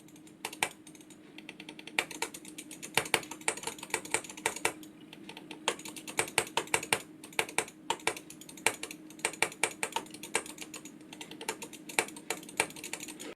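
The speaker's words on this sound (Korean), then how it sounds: "아, 클릭음은 어떤지 한번 테스트를 해볼게요" Logitech G Pro Wireless gaming mouse buttons clicking in quick, irregular bursts of sharp, close, crisp taps over a faint steady background hum, with no talking.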